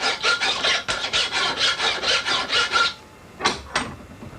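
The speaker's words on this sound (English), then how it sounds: "You put it in the vise, and then you file the waste material off." A hand file rasps steadily across the waste metal of a pen knife blade clamped in a vise in a Sheffield cutler's workshop, a run of about nine rhythmic strokes followed by a pause and two final scrapes, close and clear.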